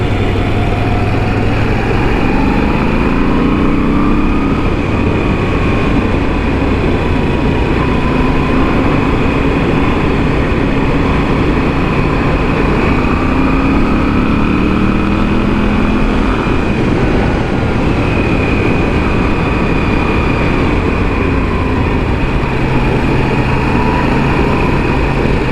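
A Moto Guzzi V7 Stone motorcycle engine while riding, continuous loud drone with a steady low throb and gentle pitch swells across the ride, with wind noise and no talking.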